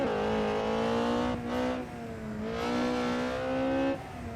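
A race car engine in a racing video game drones in a steady tonal whine, its pitch dipping and climbing as it shifts down through the gears, with no talk.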